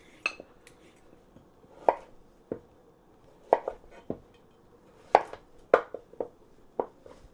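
Vegetables are cut on a board for Jamaican chicken soup, a series of distinct knife chops and taps, irregularly spaced and close, with quiet pauses between.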